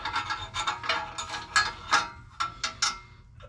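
A clamp is ratcheted onto a car part during a budget build, giving a close series of quick clicking ratchet strokes in uneven bursts, with no talking.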